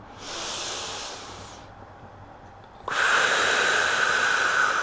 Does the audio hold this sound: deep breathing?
yes